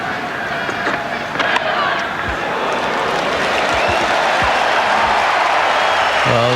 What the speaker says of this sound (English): Well, there's a roar. The crowd goes up.